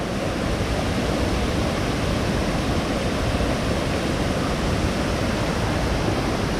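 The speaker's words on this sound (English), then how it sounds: "This is B. Reynolds Falls." B. Reynolds Falls at Ricketts Glen, a loud, close and steady roar of falling water that stays constant throughout with no other sounds.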